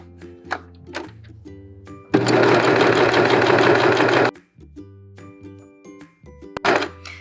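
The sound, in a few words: sewing machine sewing sock fabric along a curve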